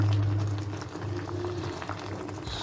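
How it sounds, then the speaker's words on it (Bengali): Cabbage boils in a pot with a steady bubbling and gurgling, fairly close and moderately loud, with a low hum beneath and no speech. "ভালো করে সিদ্ধ করে নিতে হবে যাতে কোনো কাঁচা যেন না থাকে"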